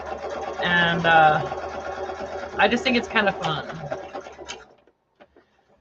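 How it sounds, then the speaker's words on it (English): A sewing machine hums and stitches through fabric in a steady close run, fading out near the end, under someone talking casually. "sewing, using the sewing machine just as a tool"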